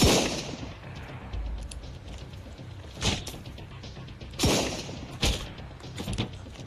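Gunfire in the survival video game Sunkenland: several sharp shots at uneven intervals over a steady low background, with no talking.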